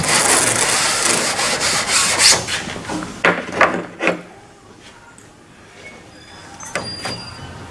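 Material being rubbed back and forth by hand over the skin of a Norseman boat rudder being re-skinned, a close, loud, raspy scraping in repeated strokes that slows into a few separate rubs and then fades near the end.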